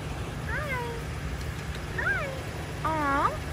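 Stray cats outside a Taco Bell at 3 a.m., three short rising meows spaced across the clip, close and clear over low background hum.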